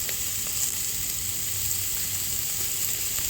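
Bitter gourd fries in a pan with poppy seeds, giving a steady, close hiss of sizzling oil with faint occasional ticks.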